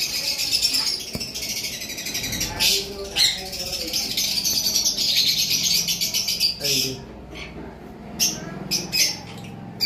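Pet birds kept for sale, including cockatiels, chirp and squawk in shrill bursts at close range, with a person talking over and between the calls.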